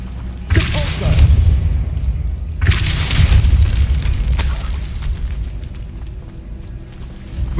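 Depulso spell cast in Hogwarts Legacy, loud booming magical blasts striking in bursts at a few-second intervals, each with a sharp onset and rumbling tail, followed by a brighter crackling burst.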